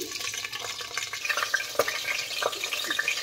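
Green chillies dropped into hot oil in a pressure cooker, giving a steady close sizzle and crackle with small bursts of spitting throughout, no voices.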